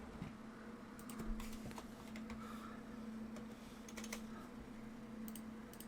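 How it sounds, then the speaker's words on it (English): Quiet, irregular keyboard typing clicks come in short bursts over a low steady hum, with no voices. "Typing."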